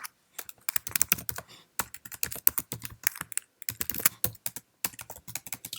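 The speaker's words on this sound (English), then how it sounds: "Let's now go within the email and type DSCSV." Keys on a Mac keyboard clatter in quick bursts as an email is typed, crisp close clicks separated by brief pauses.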